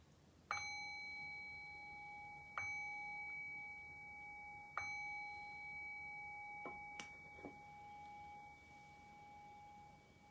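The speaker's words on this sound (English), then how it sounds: "I'll ring the bell to make it official." A meditation bell is struck three times to close a dharma talk, each strike a clear ringing tone that hangs and slowly fades, evenly spaced about two seconds apart, followed by a couple of faint lighter knocks in a quiet room.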